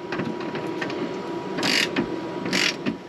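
A ratchet tightening bolts on Rago Fab bed stiffeners in a pickup truck bed: steady, close mechanical clicking with two louder, brighter bursts of rapid ratcheting. No one speaks.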